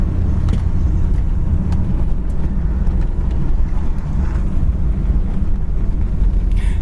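A 1967 Cadillac convertible sits idling with a steady low rumble, heard close and continuous, partly muddied by wind noise on the microphone.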